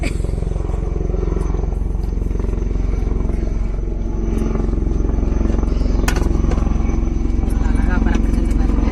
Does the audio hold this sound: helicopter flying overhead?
yes